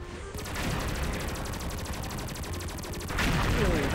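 Rapid automatic gunfire rattles in the XSHOT Magic Universe shooting game, a steady burst of shots followed by another louder volley, with faint talk underneath.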